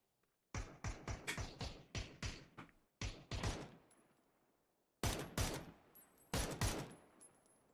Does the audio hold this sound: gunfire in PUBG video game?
yes